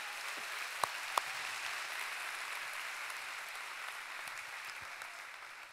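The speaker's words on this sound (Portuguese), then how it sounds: "um aplauso bem bonito para Jesus" A church congregation applauds during a sermon, steady soft clapping heard from a distance as a continuous even wash throughout, with a couple of brief sharper taps near the start.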